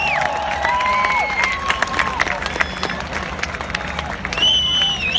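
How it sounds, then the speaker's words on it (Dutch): Crowd at the Zandvoort race days applauds Max Verstappen and Daniel Ricciardo with scattered clapping and cheering, while high whistling engine or tire tones sweep across from nearby cars. "Fantastisch applaus voor Max Verstappen en Daniel Ricciardo."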